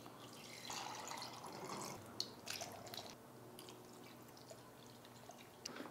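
Water pours into rock tumbler barrels in quiet, uneven bursts, with trickling, dripping and soft splashes, along with a few small clicks and knocks of the barrels being handled.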